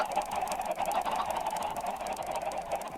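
Chickens in Minecraft, a dense crowd of overlapping clucks and honk-like squawks forming a steady, busy chatter nearby with no talking.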